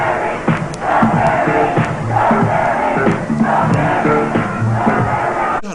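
A large concert crowd cheers and roars in old 1990s–2000s live footage, a dense continuous wall of shouting voices with scattered louder yells and whoops throughout.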